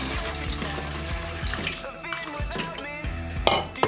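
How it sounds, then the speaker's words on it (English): Running tap water rinses developing color film in a home darkroom, a steady close splashing flow with small clinks and knocks throughout, louder surges near the end. "It says wash it in running water"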